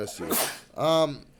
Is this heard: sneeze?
yes